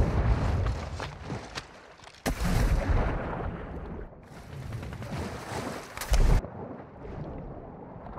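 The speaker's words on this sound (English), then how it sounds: "Flash grenade!" A flash grenade goes off during a Call of Duty: Modern Warfare II team deathmatch, a sharp close blast followed by a rumbling, muffled aftermath and a second sharp burst amid ongoing game noise.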